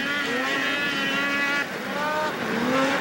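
Snowmobiles race in a pro stock snocross final at Grand Prix Valcourt, engines screaming at high revs with rising and falling pitch as sleds pass close by.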